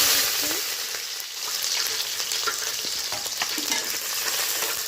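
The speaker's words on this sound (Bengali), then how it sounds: "অল্প একটু তেল আছে এই তেলেই কিন্তু লেগ পিস কষাটা হবে এবার একটা বড় সাইজের পেঁয়াজ কুচি" Chopped onion frying in a small amount of oil left over from frying, for a Bengali leg-piece kosha curry; a steady, close sizzle with light stirring scrapes and no talking.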